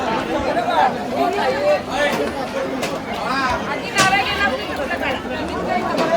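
A huge crowd fills a temple with dense, steady chatter and babble, many voices overlapping close by without pause.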